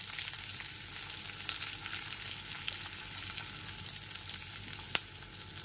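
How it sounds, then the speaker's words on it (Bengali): Capsicum and onion frying lightly in oil over a low-to-medium gas flame, a continuous faint hissing crackle with a couple of brief sharper pops, heard close and without any talk. "গ্যাসের ফ্লেমটা লো টু মিডিয়ামে রেখে ক্যাপসিকাম আর পেঁয়াজটাকে হালকা করে ভেজেই তুলে নেব।"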